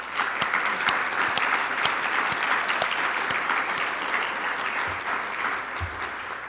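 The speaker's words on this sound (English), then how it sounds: "he deserves a round of applause." Sustained applause from a banquet audience fills the room, dense and steady, easing slightly toward the end with a few louder claps standing out near the close.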